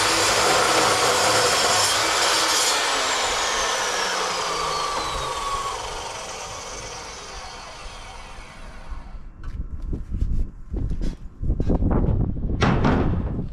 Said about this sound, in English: Cold cut saw is just the best.